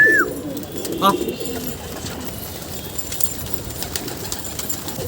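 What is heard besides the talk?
pigeon cooing on a building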